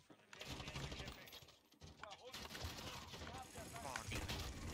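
Rapid bursts from an automated sentry gun in a multiplayer shooter game, with layered gunfire and battle noise, a few short dips, and voices talking over the shooting.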